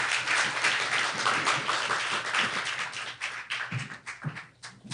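Audience applause for someone speaker at an international forum on women's empowerment in St. Kitts, Eastern Caribbean: steady clapping from a seated crowd that thins and turns patchy toward the end, leaving a few scattered claps.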